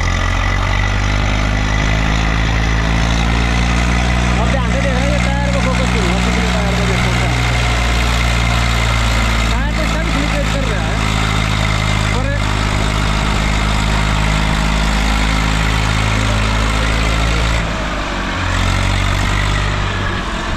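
An Eicher tractor engine idles steadily with a deep, throbbing low rumble that runs unbroken throughout, close and loud.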